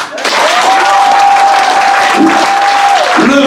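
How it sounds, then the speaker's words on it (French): Loud crowd applause at a political conference fills the whole stretch, dense clapping with a sustained whistle-like tone riding over it and a few brief voices near the end. "Applaudissez ça."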